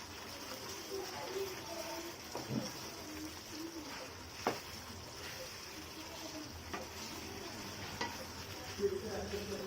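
A spoon stirs chicken curry seasoned with Maggi chicken masala in a pan, soft scraping strokes and occasional clinks over a low steady sizzle, fairly quiet and close.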